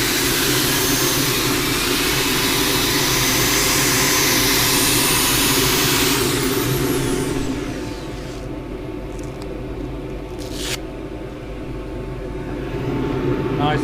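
A power sander works a green-turned casuarina wood bowl on a lathe, making a loud, steady whirring drone that eases partway through and then keeps running more quietly underneath.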